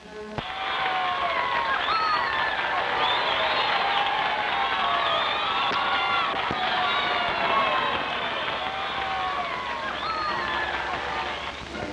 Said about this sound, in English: And now here's a cheer from the crowd, from the Keswick crowd.